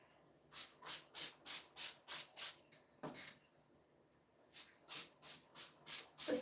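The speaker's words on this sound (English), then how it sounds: "The spray bottle sounds like it has indigestion." A spray bottle mists water onto long 4c hair in quick bursts, two runs of about six sharp, close hisses each, separated by a brief rustle and a pause.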